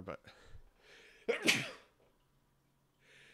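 A sharp, explosive sneeze bursts out after a brief word, followed by quiet.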